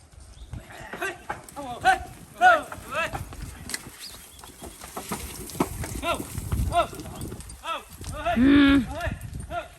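A herd of cattle runs close by, escaped from a corral, with hoof clatter and repeated lowing moos in the dust, while people talk and shout over the commotion.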